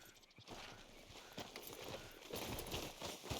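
Horse hooves clip-clopping at a steady walking rhythm in Red Dead Redemption 2, fairly quiet and even, with soft ambient background and no talking.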